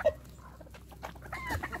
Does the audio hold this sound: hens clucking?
yes